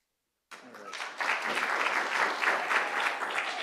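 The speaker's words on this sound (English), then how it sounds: "Hold the applause for our guests." An audience at a climate and clean energy policy talk breaks into applause after a moment of silence, the clapping swelling quickly and staying dense and steady.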